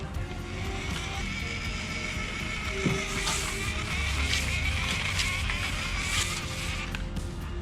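A low-cost toy remote control car drives along, its small electric motor whirring and wheels rattling at close range, with a faint whine rising and falling over several seconds.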